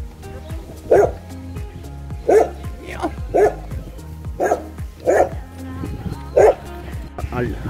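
A Canadian wolf in an enclosure at Cuba's national zoo barks loudly and close by, giving about seven short, gruff barks roughly once a second over a low background hum.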